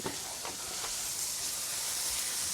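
Garlic, raisins and apples sauté in a hot pan, making a steady, bright sizzling hiss with a few soft stirring scrapes, close up and with no talking.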